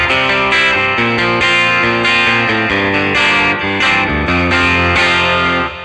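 Electric guitar played through a Deluxe Reverb amp simulation with a virtual capo pitch-shifting it down a whole tone, a loud, continuous run of chords and notes with a rich, slightly driven tone and no talking.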